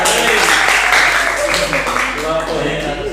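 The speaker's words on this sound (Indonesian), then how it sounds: "Wih, oke, tepuk tangan." Group of students clapping in a classroom during a team quiz game, a short burst of applause that fades into scattered claps, with voices talking over it.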